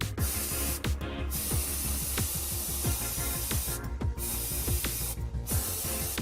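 An airbrush sprays VMS varnish onto a scale model: a steady, close breathy hiss that runs in bursts, broken by three short pauses.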